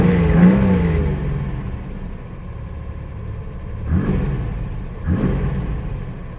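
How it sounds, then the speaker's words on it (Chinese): A 1962 Mercedes W111 twin-carburetor engine, freshly tuned, idles with a steady mid-range hum, then revs sharply twice near the end, each burst rising quickly and dropping back, close and moderately loud. "这就是1962年的 W11 双化油器，经过赫曼先生的调整之后，真的是有够爽快的。"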